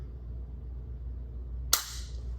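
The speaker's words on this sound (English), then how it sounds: "And then we'll go on and do a trigger pull real quick." A single sharp click from a dry-fired traditional rifle with a very light trigger, short and crisp at close range against a steady low background hum.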